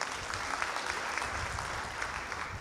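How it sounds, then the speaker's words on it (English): A big round of applause from the audience at a spring graduation ceremony, dense steady clapping from many hands that holds evenly for the whole stretch at a moderate, slightly distant level. "Let's also give her a big round of applause."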